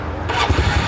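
A car engine cranks and catches on a new Dayway battery, a short, loud, close churning that settles into a running rumble.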